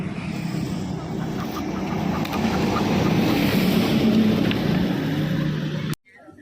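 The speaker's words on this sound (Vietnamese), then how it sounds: "là gió tu nó đấy" Wind howls outdoors in a steady, loud, broadband roar with a low rumbling undertone, holding evenly for about six seconds before cutting off abruptly into quieter background noise.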